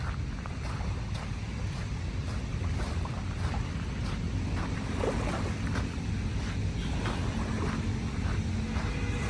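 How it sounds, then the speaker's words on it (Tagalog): Calm sea at Dolomite Beach along the Manila Bay shore, a steady wash of gentle waves and breeze with rumbling wind buffeting the microphone throughout. "Ganda ng kalmadong dagat."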